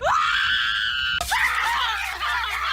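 A loud, sustained high-pitched scream cries out for about a second, then breaks off and gives way to a rougher, ragged follow-on scream that trails away.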